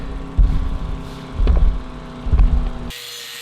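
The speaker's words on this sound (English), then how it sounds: "I'm just grinding one side of this contraction joint, just because that's not a V cup wheel, it's just a one-sided grinding wheel" Angle grinder with a one-sided grinding wheel working a contraction joint in a concrete garage floor, a steady mechanical drone with three heavier bursts of grinding, close and loud, cutting off abruptly near the end.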